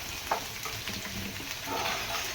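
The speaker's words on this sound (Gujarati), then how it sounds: "તો આ રીતે ધીમે ધીમે બધું તમે આને ચમચાથી હલાવો" Onions and ginger-chili paste stirred with a spoon in a pan for Gujarati tuver totha, giving a steady close sizzle and frying crackle with soft scraping throughout, no voices.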